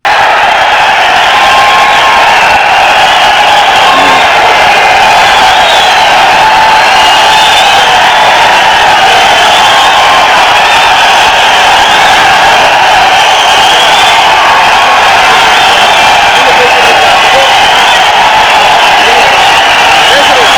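Recorded applause and cheering from a huge crowd, mixed so thousands of people seem to clap nonstop, pours out of speakers as a loud, unbroken wall of clapping with whoops and shouts over about twenty seconds.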